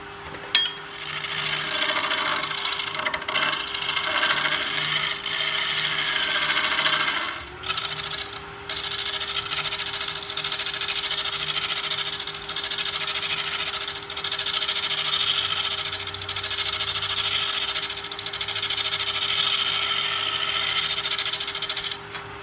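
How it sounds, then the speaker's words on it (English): A continuous scraping, rasping sound of a beveled-edge woodturning tool smoothing spinning wood on a lathe, with a steady motor hum underneath and a brief pause partway through. "Going back with a beveled edge to smooth it out."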